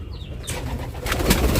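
Pigeons coo close by, with low, throaty coos and soft rustling that may be wing flutters, heard without any talk.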